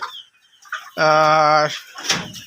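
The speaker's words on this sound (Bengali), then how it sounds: "এখনও আমার কাছে আলহামদুলিল্লাহ ডিমের মুরগি বেশ কিছু আছে এখানে এখনও" Egg-laying Fayoumi hens at a poultry farm give a loud, drawn-out harmonic squawk lasting under a second, framed by softer clucks and brief bird calls nearby.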